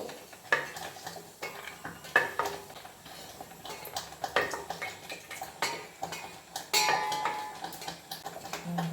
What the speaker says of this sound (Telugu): జీడిపప్పు బాదం వేగినాయండి ఇప్పుడు తీసేస్తున్నాను